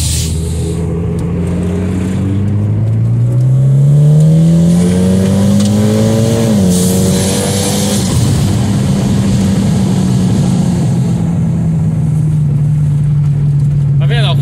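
A black 2012 Mitsubishi Lancer Ralliart Sportback AWD engine revs while driving on a rough street, its pitch climbing through a gear, dipping at a shift, then holding a steady drone, with people talking inside the cabin.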